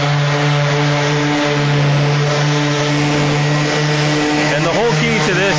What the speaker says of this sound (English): So we'll go ahead and sand it real quick.